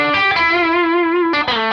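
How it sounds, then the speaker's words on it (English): Fender Custom Shop masterbuilt Roasted '59 Stratocaster with Brazilian rosewood played through an overdrive with the blender turned off, ringing a loud sustained distorted note with a fresh pick attack near the end. "I'll just do the blender option on the overdrive side. So here it quickly is blender off."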